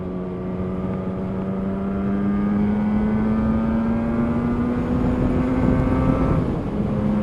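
Yamaha RD250LC two-stroke motorcycle accelerating into its power band, a loud steady engine drone rising slowly in pitch for several seconds, close and continuous with rushing wind behind it.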